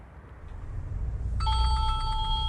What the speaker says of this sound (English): whose phone in these troubled times barely stops ringing